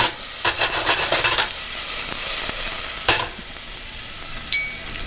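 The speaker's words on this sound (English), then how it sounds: "then put the bay leaf and the lemongrass. Stir it up until translucent." Bay leaf and lemongrass sizzle in a hot pan while being stirred, a steady frying hiss with a few sharper scraping bursts early on and one near the middle, no talking.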